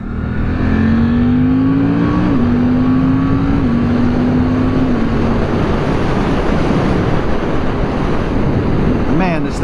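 A 2023 Suzuki GSX-8S sport bike runs on the road with its engine note rising and stepping between gears, largely buried in loud, constant wind roar.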